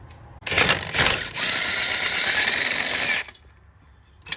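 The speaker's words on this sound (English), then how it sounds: "Now I'm pulling out the starter bolts." Power tool removing starter bolts on a Chevy Silverado during transmission removal: a close, buzzing mechanical whir that runs about three seconds after a couple of short bursts, followed by quiet.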